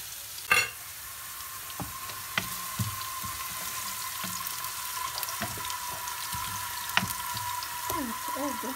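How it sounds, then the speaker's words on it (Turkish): Carrots sautéing in a pan for a leek olive-oil dish, a faint, steady sizzle with occasional light clicks and scrapes of a utensil, close and quiet. "Biraz da havuçlarıyla birlikte kavrulsun."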